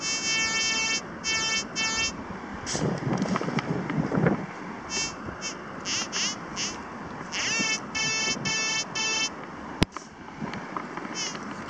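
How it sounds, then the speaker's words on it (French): A metal detector gives a strong target signal outdoors in Brittany or Vendée, France: repeated high, buzzing electronic beeps in short bursts, with gusts of wind and a sharp click partway through. "Donc là j'ai un bon signal, vous pouvez l'entendre."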